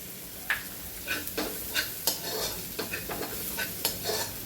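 Capsicum and spring onion sautéing in a pan for restaurant-style masala dry chicken lollipop: a steady sizzle with a spatula scraping and tapping the pan at irregular intervals, close and alone.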